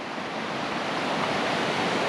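Ice-cold mountain spring water flows steadily in the Reintal valley, a continuous close rushing and splashing that fills the whole moment with no voices.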